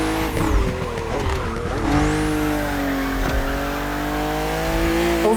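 BMW M2 and M4 race cars in The Crew Motorfest howl through narrow, twisting bends, engines revving and shifting pitch while tires squeal in short bursts, loud and continuous with no talk.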